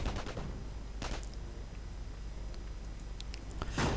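Muffled gunfire and mortar impacts from a WWII strategy video game, a few scattered bursts and thuds over a steady low rumble of battle noise.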